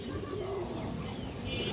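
A single pigeon gives a soft, low coo against a quiet background hum, one short throaty call near the middle, close but fairly faint.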